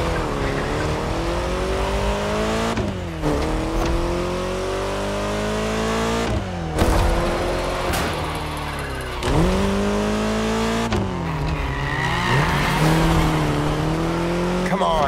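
A car races in The Crew Motorfest video game, its engine revving loudly through repeated gear shifts that rise and drop in pitch, with tire squeal and continuous game sound throughout.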